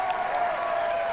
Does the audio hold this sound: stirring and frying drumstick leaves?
no